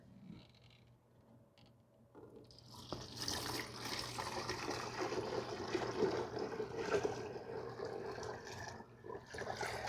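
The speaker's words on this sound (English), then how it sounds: "So I'm going to go ahead and fill it to the max fill line." Water runs steadily from a tap into the water tank of a 3i S10 Ultra robot vacuum, filling it to the max line. The pour starts at about three seconds and keeps up at moderate level as a continuous rushing splash.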